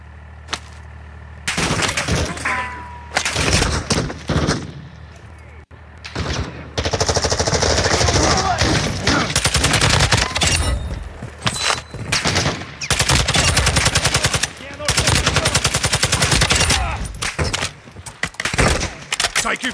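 Rapid automatic assault rifle fire in a video game firefight, loud bursts repeating through most of the stretch with short gaps, mixed with other shots and impacts and occasional shouting voices.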